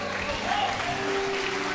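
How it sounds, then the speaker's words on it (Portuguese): A church congregation claps in a continuous, crowded burst of applause filling a large space, with voices mixed into the noise. "Quem crê, fica de pé e aplaude ao Senhor."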